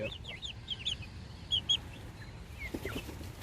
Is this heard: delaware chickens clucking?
yes